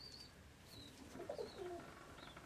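Soft, low pigeon cooing comes in a few murmured phrases, with faint higher bird chirps in the background.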